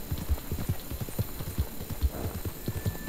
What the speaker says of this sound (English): Let's go, can I just ride my horse now?